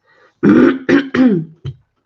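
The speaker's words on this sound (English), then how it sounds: "I've got this nasty cough for over 10 weeks now" Several harsh coughs from a cough lasting over ten weeks, in quick succession, close and loud, followed by a short final cough after a brief pause.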